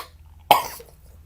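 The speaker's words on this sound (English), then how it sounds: "I think I done coughed it up" A single short, sharp cough breaks a quiet room, close and clear, fading quickly in under half a second.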